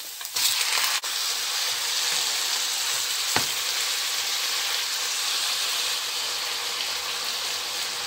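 Minced pork hitting a hot pan, erupting into a loud sizzle that settles into a steady, close hiss with a single sharp knock partway through.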